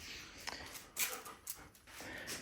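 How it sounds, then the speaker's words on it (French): A puppy whimpers in short, faint, high-pitched bursts spread across a couple of seconds, close by in a quiet indoor space, with no talking over it. "Le genre bébé chien qui contrôle tout."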